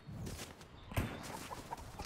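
A chicken clucks in the video game Fortnite, a few short, close cackles over a busy background of game sounds.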